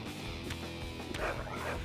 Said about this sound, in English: Oh no, a dog.